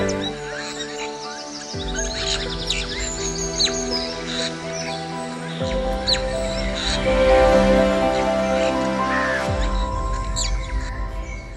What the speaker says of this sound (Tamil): புள்ளினங்கள் கீச்சிடும் குரல்களை எப்போது கேட்டீர்கள்?